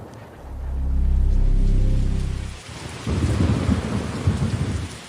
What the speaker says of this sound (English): The only thing missing was rain.